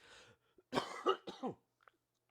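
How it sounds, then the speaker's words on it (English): A person clears their throat with a few rough, gravelly bursts, followed by brief quiet and a faint trailing breath. "Got to clear my throat"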